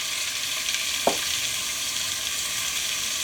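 Pork sizzles in olive oil in a cast iron pot, a steady close crackle with one brief clunk of a utensil partway through, no voices.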